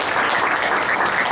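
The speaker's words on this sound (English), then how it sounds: "a round of applause to yourselves" A crowd claps loudly and continuously, a thick wash of applause filling the short moment.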